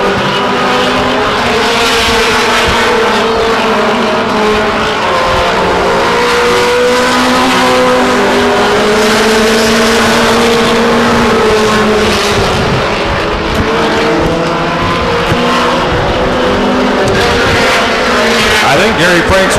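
Race trucks roar around the Stockton 99 Speedway oval, engines droning and rising in pitch as they pass, continuous and loud, with occasional tire squeal and an announcer talking over the racing.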